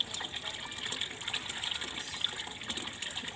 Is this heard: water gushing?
yes